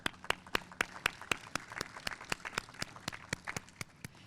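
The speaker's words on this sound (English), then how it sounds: "Let's give him a round of applause." Claps ring out at an outdoor ribbon cutting for a taxi driver mural in Annapolis, sounding as sharp, evenly spaced single claps at a moderate distance with little crowd noise around them.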